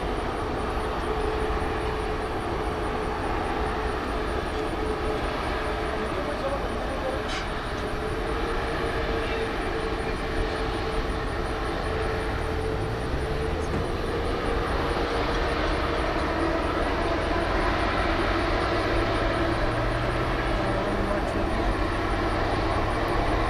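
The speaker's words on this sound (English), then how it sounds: "runway 18 right, clear for takeoff" A jet airliner departs runway 18 right at DFW Airport, its engine roar steady and broad throughout, a low droning rumble that rises slightly toward the end, with faint radio chatter underneath.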